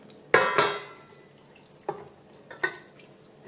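Home-brined bacon and its liquid being tipped into a cooking pot, making a wet splash and slosh followed by a few softer drips and splatters, close and without talk.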